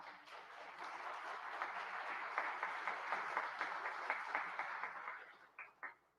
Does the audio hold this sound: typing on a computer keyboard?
no